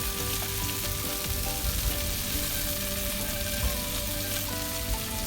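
Pork belly sizzling and being stir-fried in a pan with garlic, a dense steady crackle and hiss with occasional stirring scrapes, close and continuous, no talk.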